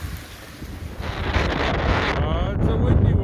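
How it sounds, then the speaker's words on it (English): Strong wind blowing on the Appalachian Trail, a loud rushing buffet across the microphone that builds over a few seconds, with no talk. "Oh, it's a windy one."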